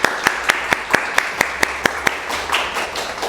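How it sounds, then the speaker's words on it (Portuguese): Applause from a small audience at a workplace talk, sounding as a sparse, steady series of sharp individual claps, roughly four per second, close and distinct. "Eu peço uma salva de palmas por essa iniciativa."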